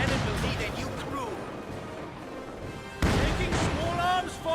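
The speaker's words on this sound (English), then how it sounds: "Taking small arms fire." Small arms fire in the World War II strategy game Company of Heroes 2, a busy run of cracking battle shots and crashes that jumps louder halfway through, mixed with game voices and sound effects.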